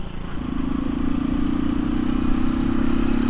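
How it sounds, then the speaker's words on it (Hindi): A Bajaj NS 125 motorcycle engine runs close by on a muddy dirt track, giving a steady, buzzing mid-pitched hum with a faint rattling texture that holds constant throughout, with no talking. "भाई बोल रहा है बाइक का साउंड सुनाओ, तो भाई को साउंड सुनाएंगे अभी"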